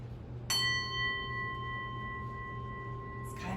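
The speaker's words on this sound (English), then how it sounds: "I've got this fun bowl here. It's a really big bowl. And when I hit it, it's gonna make a sound." A big singing bowl is struck once, ringing out in a clear sustained metallic tone that slowly fades over a low background hum, with a fresh strike just beginning at the end.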